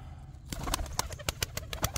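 Pigeons in a coop give a run of short, evenly spaced calls with soft wing and body noises between them, close by and fairly quiet, with no talk.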